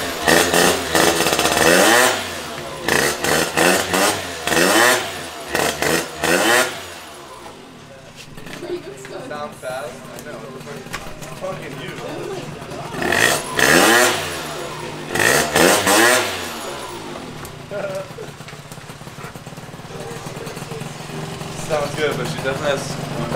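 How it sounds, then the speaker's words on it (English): A freshly built Honda Elite Dio scooter with a 72cc kit, Polini Corsa and new Arrow pipe runs nearby, a buzzy two-stroke engine revving in sharp repeated bursts between idling, with a person talking over it. "But bike runs, 72 kit, fresh build, everything fresh on it."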